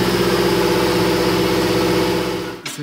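A 4x4's engine runs at a steady idle with diesel poured into its axle and gearbox to flush them, a loud, even, close drone with a brief shift in tone near the end.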